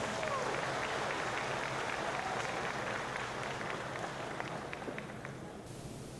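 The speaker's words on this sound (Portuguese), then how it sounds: "Vamos saudá-lo com a calorosa salva de palmas." Congregation at a parish men's gathering giving a warm round of applause, dense steady clapping from a large crowd that tapers slightly toward the end, with faint crowd murmur beneath.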